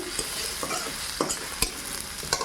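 Chopped ginger and garlic fry in hot oil with a steady close sizzle, broken by a few sharp spatula scrapes and stirring clinks against the pan.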